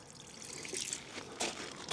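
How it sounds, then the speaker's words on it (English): Water trickles and runs off the wheels and tyres of a Skoda Fabia vRS SE during a wash, a faint, steady wet patter with a few brief louder splashes near the end. "plenty of water runoff"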